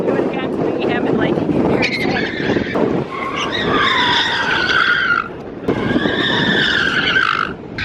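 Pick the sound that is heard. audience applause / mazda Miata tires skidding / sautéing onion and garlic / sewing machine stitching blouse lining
mazda Miata tires skidding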